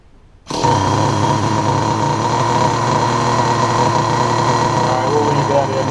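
A Traxxas Jato nitro RC car engine starts abruptly and then runs steadily, giving a loud, continuous high-pitched buzz with a rough idle rumble beneath it, close by and with no voices.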